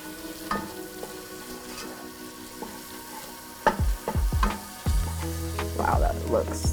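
Homemade Cajun spices bloom in a little oil for a seafood gumbo, frying with a steady sizzle. Stirring scrapes come in bursts and grow louder, with brief voice-like sounds near the end.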